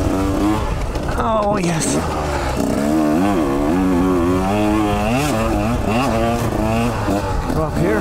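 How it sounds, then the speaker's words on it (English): A KTM 125 XC two-stroke dirt bike revs hard and loud up close, its pitch climbing and dropping repeatedly as it shifts through gears, with a brief spoken exclamation over the engine. "I'm certainly shifting a whole lot more on this bike than I do on the Kawasaki."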